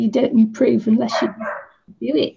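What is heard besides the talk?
dog barking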